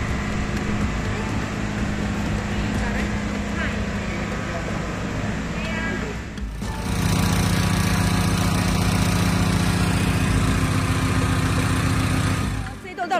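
An engine-driven pump runs to drain a flooded basement, a continuous mechanical drone that grows louder and fuller midway, with people talking and calling out around it.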